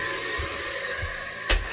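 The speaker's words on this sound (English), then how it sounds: "Are you hoovering up wet stuff?" A vacuum cleaner drones steadily up close aboard a narrowboat in winter, its motor whine constant, with a few dull bumps and a sharp thud near the end.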